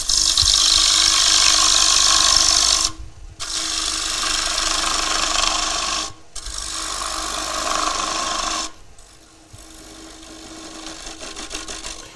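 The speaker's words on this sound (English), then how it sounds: "Over to a slightly bigger gouge just to finish the bottom." A gouge cutting an ambrosia maple bowl on a wood lathe makes a loud, continuous rasping whir in three long passes, each broken by a brief silent pause, then a quieter fourth pass.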